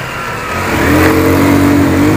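A Honda CB190R motorcycle engine revs steadily during a first-gear test ride, a rising mid-pitched drone that builds over the first second and then holds loud and close, with no talking.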